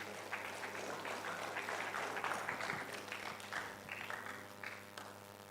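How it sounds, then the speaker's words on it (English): Audience applause at a national investment quiz competition semi-final stage event, a sustained wash of clapping from a crowd that holds steady and then gradually thins toward the end. "Let's applaud him as he joins us on stage."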